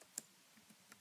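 A few sparse, faint key clicks on a computer keyboard as a command is typed into a command prompt, spaced irregularly over a quiet background.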